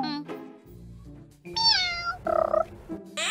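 Cartoon cat meows in the Avatar World mobile game, several short bright mewing calls one after another, close and clear, alongside light game music.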